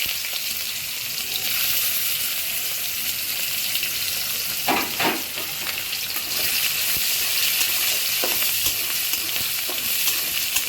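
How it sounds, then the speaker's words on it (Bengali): Chopped onion and garlic fry in a pan with whole cumin and spices, giving a steady close sizzle broken by a few stirring scrapes partway through. "পেঁয়াজ কুচি রসুন দিচ্ছি"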